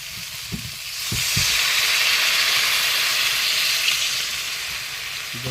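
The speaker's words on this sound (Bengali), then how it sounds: "জল দিয়ে দেবো" Water poured into a hot pan of prawn curry, a few knocks and then a loud, sustained hissing sizzle that holds steady for several seconds.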